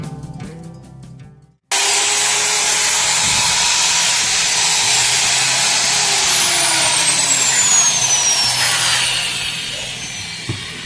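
A Camron Pro CPMC-125WD 5-inch marble cutter starts up abruptly and runs with a loud, steady high-pitched motor whine and a broad grinding roar. The pitch drifts slightly before it eases off near the end.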